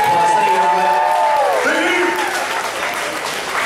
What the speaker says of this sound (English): let's give Knott's Farm and yourself some big applause